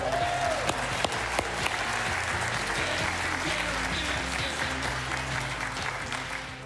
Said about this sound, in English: So how about a big round of applause for Mr. Norm Duvet?